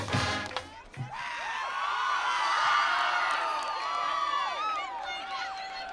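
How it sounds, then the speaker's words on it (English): A high school football crowd at Washington Lee cheers and whoops steadily, with many overlapping shouts and whistles across the stands, while a nearby voice talks briefly at the start. "the crowd here at WNL is loving it"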